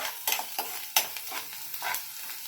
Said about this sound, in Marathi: कांदा लाल होईपर्यंत भाजायचा आहे